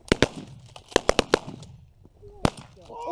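Sharp, close cracks of gunfire while hunting pigeons outdoors, a quick irregular string of loud snapping shots followed by a pause and one more crack, then a low muffled voice.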